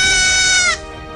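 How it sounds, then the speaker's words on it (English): A goat gives a loud, close, drawn-out bleat with a strained, wavering quaver that breaks off sharply, leaving a faint tail of lower tone. "goats."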